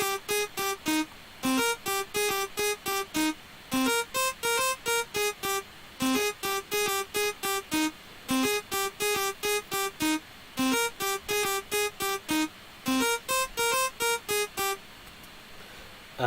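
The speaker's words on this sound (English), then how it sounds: "I've got this melody. It's just a simple saw sound" Simple dry sawtooth synth melody with no reverb or effects, bright buzzy notes in a repeating rhythmic phrase, steady and up front with no voices.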